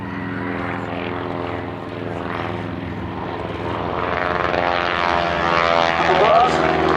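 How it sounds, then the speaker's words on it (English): Droning propeller engines of WWI replica biplanes diving at the Duxford Battle of Britain airshow, a sustained loud buzz that swells toward the end as they descend, with a commentator speaking over it. "3 pairs of aircraft diving towards the trenches."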